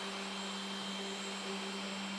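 A Mark 7 Power Trim XPress power trimmer cuts a brass cartridge case down from 223 to 300 BLK on a Lyman Victory press, giving a steady, close motor whir with a constant hum throughout.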